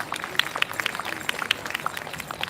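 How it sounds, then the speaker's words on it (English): Scattered applause from a crowd at an outdoor rally in Houston, thin and irregular claps with sharp individual hits, fairly faint and distant, continuing steadily throughout. "So give your applause for that."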